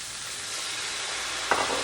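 Red wine poured into a hot pan after searing steak to start a pan sauce, a steady loud sizzle and hiss with a sudden sharp burst of crackle near the end.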